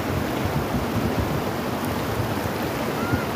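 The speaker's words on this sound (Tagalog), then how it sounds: "Ang lakas ng alon." A strong current of a shallow stream in Laguna rushes in a steady, dense broadband roar, close and continuous with no voices.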